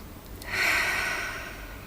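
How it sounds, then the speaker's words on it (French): One deep breath is drawn in audibly, then slowly let out, close to the listener during a guided EFT tapping and relaxation exercise with no speech. "Prenez une grande respiration."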